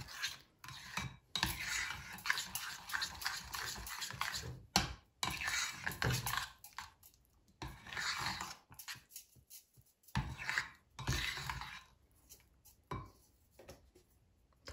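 A spoon stirs milk into thick shrikhand in a bowl, producing irregular soft scraping and sticky squelching strokes with small clinks, close and fairly quiet.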